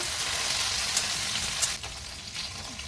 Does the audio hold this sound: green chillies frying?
yes